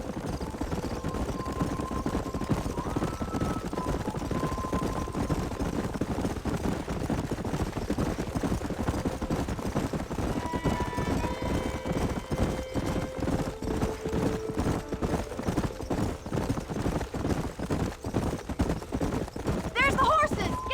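Horses galloping in Red Dead Redemption, rapid rhythmic hoofbeats pounding steadily throughout, with occasional whinnies and a musical score underneath.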